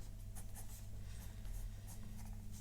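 Graphite pencil scratching steadily across paper while thickening the line weight on a hand study sketch, a close, soft, continuous scratchy rasp with small strokes and no talking.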